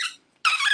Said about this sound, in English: It opens, although very squeaky.